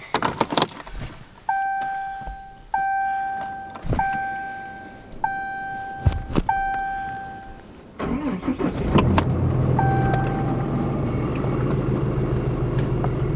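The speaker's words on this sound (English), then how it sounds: "First startup really of the truck with the new intercooler on it." A Cummins diesel truck with a newly fitted intercooler starts for the first time: a series of chimes and clicks, then the starter cranks and the engine catches into a loud, steady diesel idle close by.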